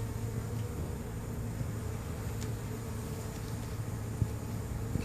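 Honey bees from a hive under a shed give off a steady low buzzing drone that fills the whole stretch, fairly near and even in level, with no speech.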